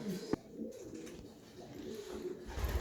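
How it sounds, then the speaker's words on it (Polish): Pigeons coo softly nearby, low throaty murmurs repeating over a few seconds with a sharp tap near the start. "Idziemy teraz zawołać gołębie"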